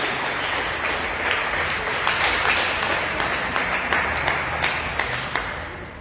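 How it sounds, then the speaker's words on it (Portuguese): A church congregation applauds Jesus during a service with loud, sustained clapping from many hands. Individual sharp claps stand out now and then over the crowd. "desocupando as tuas mãos e aplaudindo Jesus"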